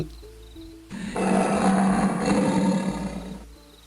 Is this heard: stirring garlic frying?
no